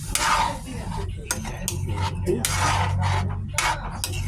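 Ladle scraping and clinking against a metal pot while mung bean stew seasoned with pepper is stirred, close irregular metallic knocks and scrapes over a low cooking hum, without talk.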